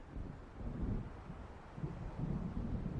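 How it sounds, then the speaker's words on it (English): Distant thunder from an approaching storm by the sea in Alan Wake Remastered, a low, faint rolling rumble that swells twice, mixed with wind-like noise and no voices. "It seems there's a storm coming."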